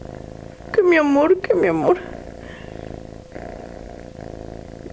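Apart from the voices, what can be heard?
cat purring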